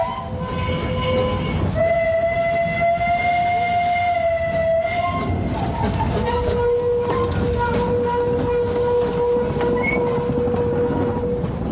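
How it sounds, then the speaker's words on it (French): Narrow gauge steam logging locomotive arriving with an uphill train at a forest passing loop in France, sustained whistle tones ringing over steady rumbling wheels and chuffing, close and loud throughout. "Venant d'Abrèchevillers, la Malais se présente avec un train montant."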